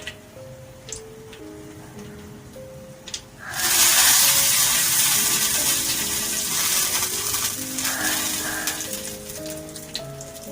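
Chopped onion drops into hot tempering oil with bay leaves and a loud sizzle erupts partway through. The crackling hiss is close and continuous and slowly eases, over soft background music.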